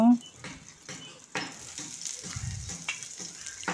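Cabbage breakfast snack frying in a pan, a steady close sizzle broken by a few scraping stirs and clinks, with some faint talk in the background.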